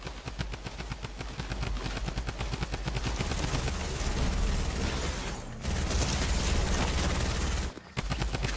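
Rapid SMG gunfire bursts in Fortnite rattle loudly and continuously, with brief gaps between volleys and dense mechanical shot textures.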